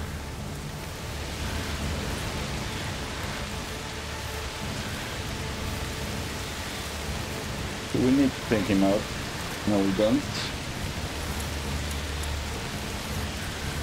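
Steady rain falls in the video game A Plague Tale: Requiem, a soft continuous hiss of drops at moderate volume. Two voices talk briefly over the downpour partway through.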